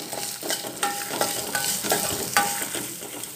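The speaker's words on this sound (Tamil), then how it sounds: "இதோட மாங்காய் துண்டுகளையும் போட்டு" Raw mango pieces sautéing in a pan with a pinch of asafoetida for a Tamil-style mango chutney: soft, close sizzling broken by repeated scraping strokes of a stirring spoon, with no talking.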